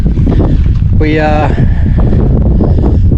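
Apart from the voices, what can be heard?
wind blowing outdoors into the microphone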